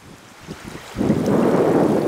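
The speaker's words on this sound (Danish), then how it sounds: "Bølgene driver oss." Waves slap around a canoe sailing down a river with a tailwind from the south, first a few soft splashes, then a sudden surge of rushing water and wind buffeting close by.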